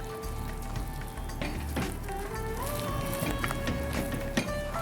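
Rice flour dough for Indian modak is stirred in a pot over low heat, giving scraping, sizzling kitchen sounds with intermittent knocks and a faint background tone, close and continuous.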